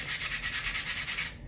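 Sandpaper rubs back and forth across a wooden craft piece in quick, steady strokes, about a dozen close, bright scrapes and no voices.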